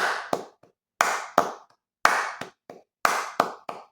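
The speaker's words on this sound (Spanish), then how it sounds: "Voy a tocar las palmas" Bare hands clap alone in a dactylic rhythm, in groups of three with the first clap strongest. The sharp, close, dry claps are separated by clear pauses.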